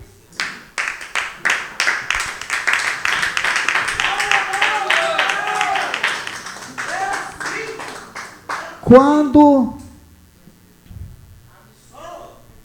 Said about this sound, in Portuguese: Podeis bater as palmas bem alegres.